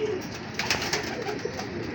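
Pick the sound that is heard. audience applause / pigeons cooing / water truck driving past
pigeons cooing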